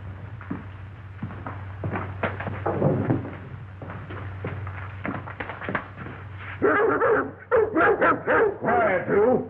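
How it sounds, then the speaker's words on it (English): A dog barks repeatedly and whimpers in an old film scene, sharp close yaps that grow louder and come in bursts toward the end, over a low steady hum. "Even the dogs don't like him."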